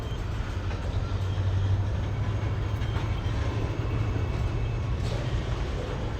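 A Norfolk Southern freight train rumbles steadily past at close range at Coffey's Cliff, Chattanooga, Tennessee, a constant low roar with faint rattling of wagons throughout.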